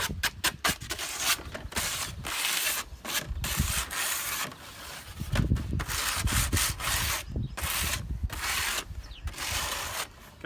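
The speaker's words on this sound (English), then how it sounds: "you really want to sand those nice and smooth" Sandpaper rubbed by hand along the sharp metal edges and corners of a folded piece, a steady scratchy rasp in repeated back-and-forth strokes, close and fairly loud with brief pauses between passes.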